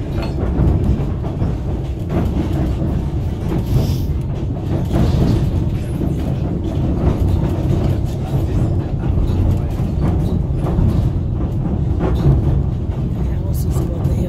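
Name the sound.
White Pass and Yukon Railway train running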